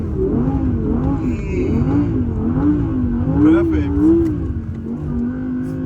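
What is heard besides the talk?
Audi car engine revving while drifting on snow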